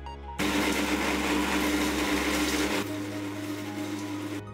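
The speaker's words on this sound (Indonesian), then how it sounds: "Kemudian blender hingga halus." A small electric spice blender grinds dried spices, starting abruptly and roaring loud and steady for about four seconds, its motor note dropping slightly partway through before cutting off.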